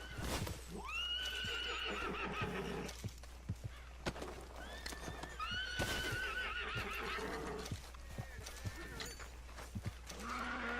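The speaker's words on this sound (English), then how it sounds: "Shut up, you damn horses." Horses neigh and whinny repeatedly in Red Dead Redemption 2, several calls rising and falling across the scene, mixed with hoof clip-clops and scattered knocks, fairly close and without speech.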